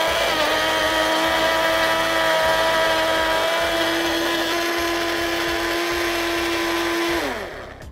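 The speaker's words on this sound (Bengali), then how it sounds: "ব্লেন্ডার অন করে দিচ্ছি" A blender runs continuously, whirring loud and steady as it purees tomatoes with water into juice, then winds down in pitch at the very end.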